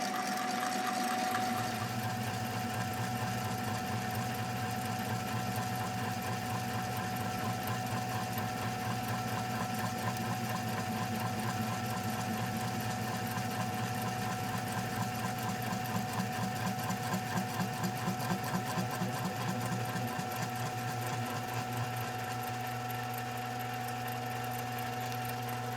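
A power tool bores a hole through the center line of a Marlin Model 30G pump wood. It makes a continuous, steady whirring drone that is close and even for the whole stretch, with no talk.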